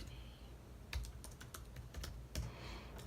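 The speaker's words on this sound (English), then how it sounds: "I don't type quickly." Keystrokes on a computer keyboard while a novelist types a speculative fiction manuscript, a steady stream of light clicks with a few louder taps, close and alone with no talk.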